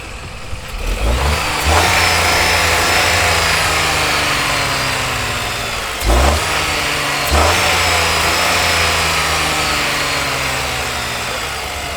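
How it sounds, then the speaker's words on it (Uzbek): A Chevrolet Tracker 2 engine idles with a low rumble, then revs up sharply twice, each burst rising loudly before settling back to a steady idle. "Motorlar qaltirab ishlayapti. Men hozir gaz beraman."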